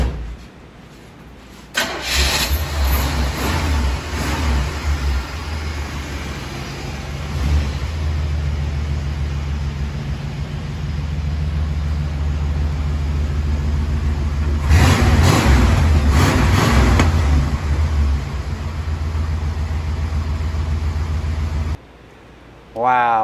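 A 1977 Pontiac Can-Am with catalytic converters starts and runs, settling into a fairly quiet, steady idle with a brief rev in the middle before it cuts off.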